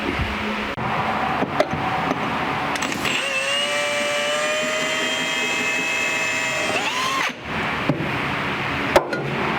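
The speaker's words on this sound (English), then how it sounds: "So I'm going to center punch them and progressively drill at them." A power drill whines steadily for several seconds, its pitch shifting as it bites into metal, with clanks and handling noises before and after.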